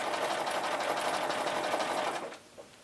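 Domestic sewing machine stitching short quarter-inch runs of thread scribbling on fabric, a steady close whirring rattle that runs continuously for over two seconds, then stops abruptly, leaving a faint tap.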